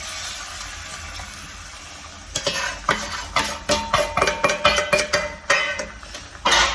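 Coconut first milk being poured and stirred into a Jaffna-style crab curry in a pan, a steady run of wet sloshing and scraping strokes close by, with no talking.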